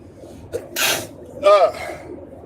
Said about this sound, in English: Uh-oh, I'm about to sneeze.